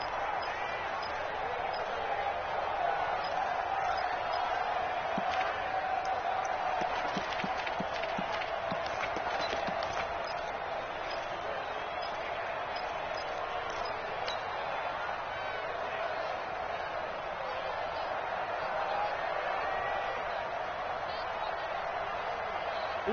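Stadium crowd in a football video game, a dense steady roar of many voices with a sustained tonal hum, moderately loud and constant beneath a commentator's voice.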